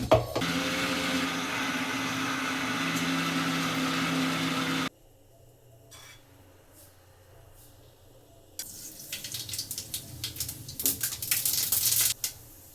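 Mixer grinder whirring loudly as it grinds grated coconut for chutney, a steady dense roar that cuts off abruptly, followed by quiet clatter and then a rising, uneven burst of grinding.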